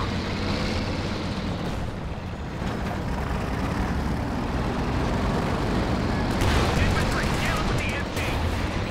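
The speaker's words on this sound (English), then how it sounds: "Ober's getting slaughtered by the Pershing" Tank battle in Company of Heroes 2 with a Pershing and Panzer IV, bringing dense layered gunfire and heavy booming shots that rumble steadily through the scene. A commentator talks over it.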